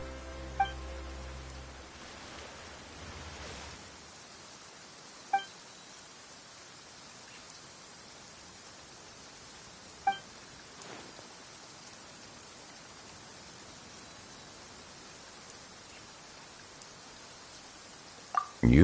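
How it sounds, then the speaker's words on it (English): Steady rain in Genshin Impact, a constant soft hiss of falling drops with a few faint pings and taps scattered through. "Why is it raining all of a sudden?"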